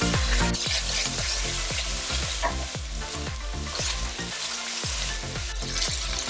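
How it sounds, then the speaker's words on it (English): Ginger and garlic paste fries on medium heat in a pan, sizzling loudly and steadily throughout with repeated scraping strokes of a stirring spoon and no voices. "Next, you will add ginger paste, garlic paste, and cook for 30 seconds on medium heat."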